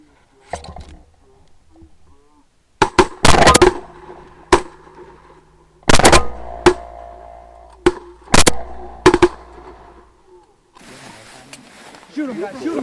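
Shotgun blasts ring out during a Michigan youth duck hunt, several loud sharp reports in quick bursts, some nearly overlapping, with shouting voices and outdoor noise between the shots.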